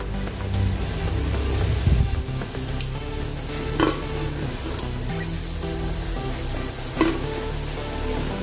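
Vegetables fry in hot oil for a spinach and pea dish, a loud steady sizzle close up with occasional scrapes and clinks from the pan, no voices.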